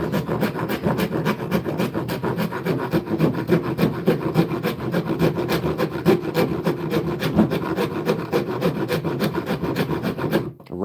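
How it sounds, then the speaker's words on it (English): An antique wood rasp filing wood in steady, rapid back-and-forth strokes, a continuous loud coarse rasping that carries on unbroken for several seconds before stopping abruptly. "A rasp? Is that what it is?"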